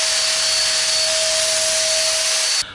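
A battery-powered Litheli paint spray gun runs in a loud, even hiss with a steady motor whine for nearly three seconds, then cuts off abruptly.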